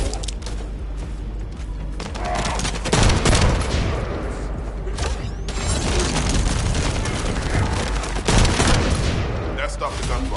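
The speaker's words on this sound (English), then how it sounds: "That stopped the gunfire." Video game gunfire in The First Descendant on PS5 or PS4: dense rapid bursts of shots, mechanical clanks and booms in a loud continuous battle, with voices talking underneath.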